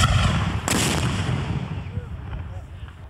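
A Civil War reenactment battery fires its cannon in one sharp, loud blast outdoors, followed by a long, rumbling echo that fades away.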